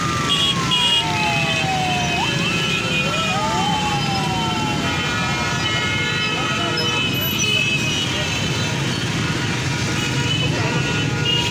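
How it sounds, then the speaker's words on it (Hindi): An ambulance carrying the deceased in a large funeral convoy sounds its wailing siren, rising and falling pitch sweeps over steady traffic rumble and crowd noise, with voices talking throughout. "अरशद शरीफ की एम्बुलेंस है जिसमें अरशद शरीफ है।"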